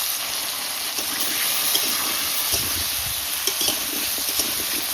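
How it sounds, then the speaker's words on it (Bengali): Potato pieces fry in hot oil with turmeric and salt, giving a steady, close hiss and sizzle with faint occasional stirring clatter. "এই দিয়ে আলু সুন্দর করে ভাজবো"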